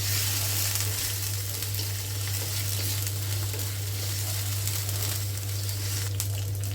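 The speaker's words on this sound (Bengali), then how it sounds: "আগে থেকে বেটে রাখা রসুন, পেঁয়াজ আর জিরা বেটে নিয়েছি, এটা দিয়ে দিলাম ভাজার জন্য।" A paste of ground garlic, onion and cumin sizzles steadily in hot oil for a raw jackfruit and shrimp curry, a dense, continuous frying hiss with no talking.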